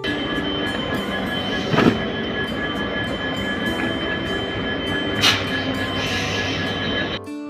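Valsad–Jodhpur Express rolling past behind an electric locomotive, a steady loud rumble and rail drone throughout with two brief sharper bursts, ending abruptly; no voices.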